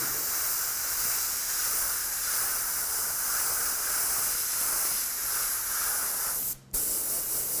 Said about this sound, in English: Then I can come in, and I've got this color in my airbrush.